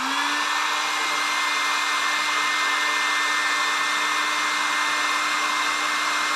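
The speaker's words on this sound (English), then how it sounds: "So I like to use the heat gun." A heat gun runs steadily and loudly on its own, starting up with a rising whine that settles into a constant blowing roar with a steady tone for the whole stretch.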